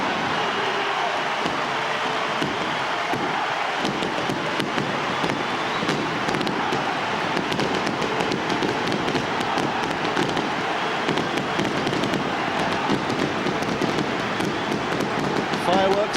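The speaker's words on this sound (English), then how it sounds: "Fireworks above the stadium," Fireworks go off above a stadium at a Leeds versus St Helens rugby league cup semi-final, a steady crackle of bangs under loud crowd noise.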